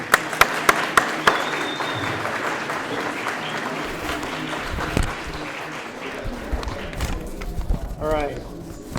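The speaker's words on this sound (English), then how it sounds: "Let's give our sponsors, volunteers, and interns a big round of applause." Audience applause at a year-in-review event, a few sharp claps at first swelling into steady crowd clapping, with a voice speaking over it toward the end.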